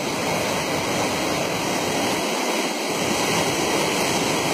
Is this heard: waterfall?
yes